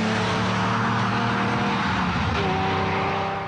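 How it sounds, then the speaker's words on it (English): A Lamborghini Countach engine roars steadily at close range, a continuous throaty drone with a slight shift in pitch near the end. "The car he is driving is a Lamborghini."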